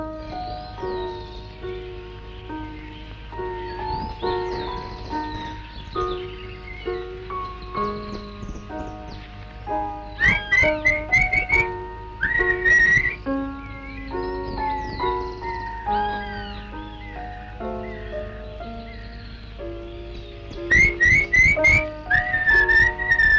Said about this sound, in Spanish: Yo te voy a silbar así.